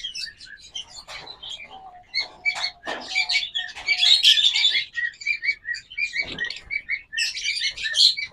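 A breeding pair of pet birds in a caged bird shop chirps in rapid, overlapping bursts of high tweets with little pauses, close and lively, with light hopping patter beneath.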